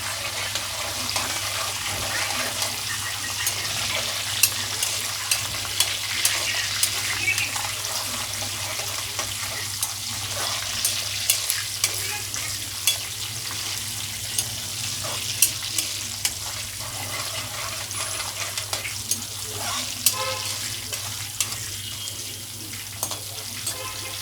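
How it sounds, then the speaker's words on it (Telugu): Red chillies frying in a pan of oil for chicken curry, a steady close sizzle that runs throughout with occasional stirring scrapes and no speech. "రెడ్ చిల్లీ ఫ్రై అవ్వాలి, టేస్ట్ బాగా వస్తుంది రెడ్ చిల్లీది."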